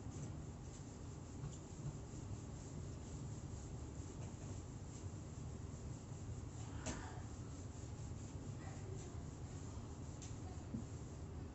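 Writing being rubbed off a board during an optics lecture, a faint steady scrubbing swish with a few brief scrapes, low and continuous without talk.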